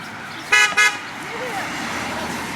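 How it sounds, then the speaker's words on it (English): A car horn gives two short, loud honks in quick succession beside a road, followed by steady passing traffic noise with voices nearby. "Honk your horn!"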